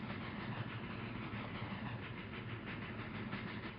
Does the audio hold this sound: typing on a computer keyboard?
no